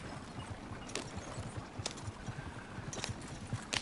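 Horse hooves clop steadily as a horse pulls a small wagon in Red Dead Online, a continuous run of close, rhythmic hoofbeats over low rumbling, broken by a few sharper clicks.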